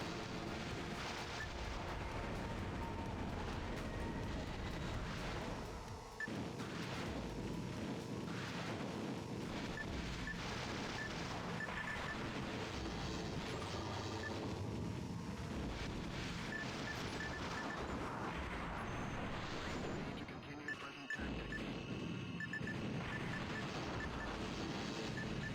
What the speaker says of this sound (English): it's really tough to hear over all of the explosions and stuff